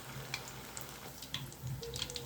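Sweet suseeyam pieces frying in hot oil, a quiet steady sizzle with scattered small pops and crackles, close by and fairly faint, no talking.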